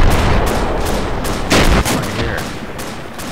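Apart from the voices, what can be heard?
gunshots in a first-person shooter video game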